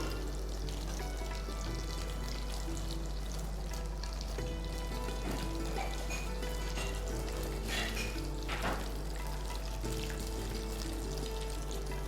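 A noodle starter deep frying in oil gives a steady, close, continuous sizzle with occasional bubbling surges, running throughout with a low hum underneath and no talking.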